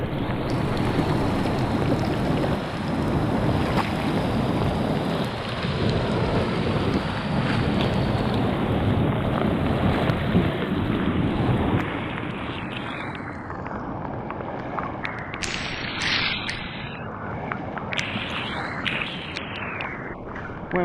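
A swollen, fast-flowing forest river roars steadily and loud, a broad rushing wash with wind buffeting the microphone, later thinning slightly as splashes and gurgles come through nearby.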